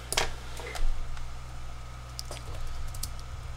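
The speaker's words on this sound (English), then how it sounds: "You're typing something." Light, irregular clicks of fingers typing on a computer keyboard, fairly faint and close, with a few sharper keystrokes standing out over a steady low hum.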